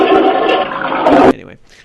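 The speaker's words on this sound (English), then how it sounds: "We'll just have to flush that one down the toilet." A toilet flush rushes loud and close for just over a second, a swirl of water that cuts off abruptly and leaves a faint gurgling tail in near silence.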